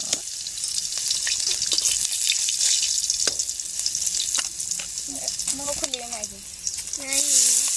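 Oil sizzling in a pan with chillies added while cooking Maggi noodles, a continuous close crackling fry with occasional stirring clicks, and a voice talking over it toward the end.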